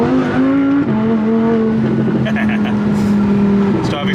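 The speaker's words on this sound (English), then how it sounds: "we can do a little bit of an acceleration, make some noise and hear that B-Rogue build exhaust" Audi R8 with an aftermarket exhaust on winter tires, accelerating from a green light; a loud, steady engine roar climbs through a gear change, heard close from inside the car.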